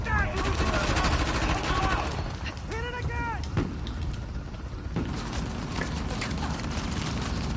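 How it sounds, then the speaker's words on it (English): A barrage of gunfire in Uncharted: The Lost Legacy, rapid cracking shots spread across the scene mixed with game noise and horse-like clatter, continuing without pause. "Ignore the barrage of bullets that's hitting you."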